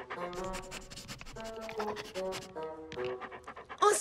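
A dog pants close by in quick, rhythmic breaths, with a light scratching sound near the end.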